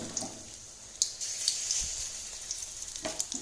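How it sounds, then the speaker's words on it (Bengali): Fritters (bora) fry in hot oil in a home kitchen, a soft, close sizzle with light crackles and a stirring clink, heard alone without voices. "এখানে কটা ভাজা হয়ে গেছে আর কটা ভাজছি"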